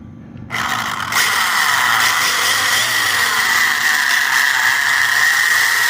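An HBX 18859A RC car's electric motor is throttled up, a steady, loud high-pitched whine rising sharply after a brief quiet start and holding for several seconds.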